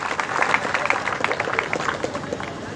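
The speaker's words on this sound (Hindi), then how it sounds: "तालियों के साथ उनका स्वागत" An audience at a gathering honouring guests on stage claps in sustained, fairly soft applause that fills the room, with a voice talking faintly underneath.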